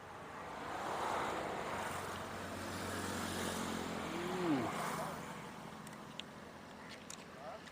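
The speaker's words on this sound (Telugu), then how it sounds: "ఇక్కడ అసలు గాలి ఎక్కువ అవుతుంది" Strong wind buffets the microphone in rising and falling gusts at Vijjeswaram on the Godavari, with a faint voice briefly audible underneath.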